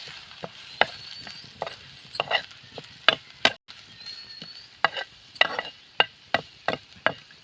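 Onion being sautéed with red chili powder and asafoetida in a pan: repeated sharp scraping and stirring knocks of a spoon at irregular intervals over a soft background sizzle, close and fairly clear.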